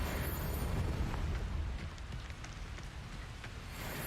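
A Confringo fire spell bursts in Hogwarts Legacy on PS5, a loud crackling blast that fades into a hissing, rain-like rumble of debris.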